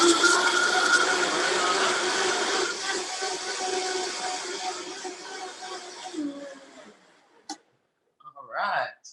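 A blender whirs steadily as it blends lettuce, celery, apples and water, a loud dense grinding hum that fades after several seconds and stops, followed by brief clatter.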